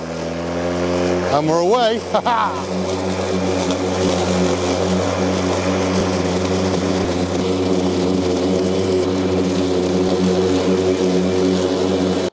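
Makita battery-powered commercial lawn mower spinning up and running steadily through rough grass, a loud sustained whirring hum with a rising whine as it starts, while someone speaks briefly.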